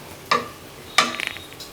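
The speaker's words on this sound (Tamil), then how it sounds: "சர்க்கரை சேர்த்து நல்லா கலந்து விடுங்க." A spoon stirring sugar into cooked rava in a pan for rava kesari gives two sharp metallic scrapes and clinks against the pan, followed by a quick run of lighter taps and rattles, close and clear with no talking.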